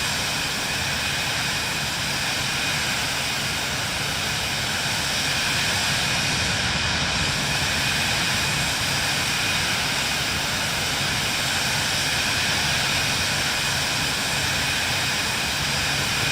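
Cirrus Vision Jet's single jet engine, originally designed for missiles, heard from inside the cabin in flight as a steady, loud broadband roar with a faint high whine, unchanging throughout.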